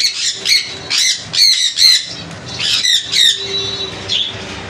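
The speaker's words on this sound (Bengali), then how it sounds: "বন্ধুরা এই পাখিগুলো দোকানে দেওয়া আছে, বাড়িতে আরও পাখি আছে" Conure parrots in a bird shop give repeated harsh, loud squawks in quick bursts, close by, with several birds calling over one another.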